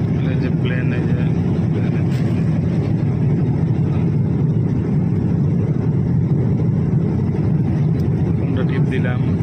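Steady, loud engine roar and rushing air fill the passenger cabin of a night flight from Dhaka to Dubai, continuous and unbroken throughout.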